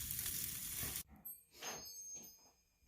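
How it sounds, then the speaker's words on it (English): Ribeye steaks sizzling on a grill: about a second of loud, dense hissing sizzle that cuts off abruptly, followed by quieter scattered clinks and faint background sounds. "Got some ribeye steaks on the grill."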